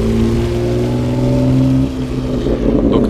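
A BMW M4 GTS with water injection accelerating: a loud, close engine drone holds a steady pitch, then shifts and roughens partway through.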